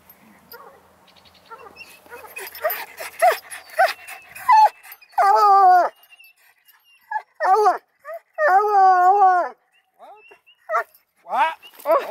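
A 9-month-old male Redbone and black-and-tan coonhound cross bays and howls in long, loud, drawn-out tones that rise and fall, following a stretch of busier yips and barks, close to the listener.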